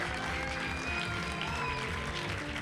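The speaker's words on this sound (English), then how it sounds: "Big round of applause" Audience applause at a Classic Tetris tournament: a steady wash of clapping and crowd noise fills the room at moderate volume, continuous and even throughout without breaks, with no talk standing out above it.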